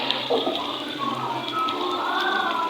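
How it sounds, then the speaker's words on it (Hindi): Water pours from a half glass into mutton mince in a cooking pot, a steady close gushing and splashing that runs for a few seconds without talk. "हाफ गिलास में इसके अंदर पानी डालूंगी"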